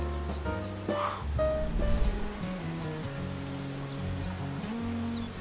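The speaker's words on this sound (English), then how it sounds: "It's like a little creek crossing" Water flows through a small creek crossing right beside a road, a steady soft rushing wash with a low tonal hum running underneath.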